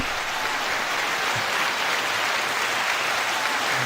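Dense crowd applause, a steady wash of many hands clapping at an even loud level for a few seconds, with no speech over it.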